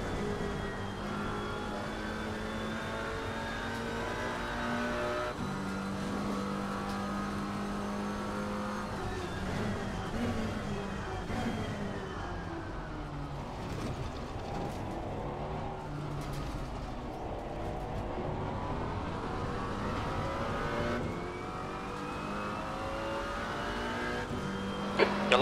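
A McLaren GT4 race car in the racing game ACC at Spa drones continuously, its engine note climbing and falling through gear changes with sweeping pitch glides, easing off and building again, no talk over it.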